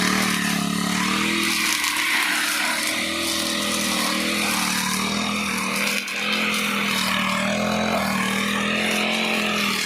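A small engine runs steadily and loudly throughout, a continuous buzzing drone with slight shifts in pitch, like a motorized string-line grass cutter idling and revving.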